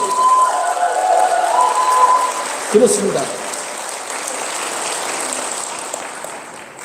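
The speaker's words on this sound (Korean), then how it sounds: "우리 함성과 함께 박수." An audience at a company rally claps and cheers loudly, a broad wash of applause with shouts that stays strong throughout while someone briefly speaks over it.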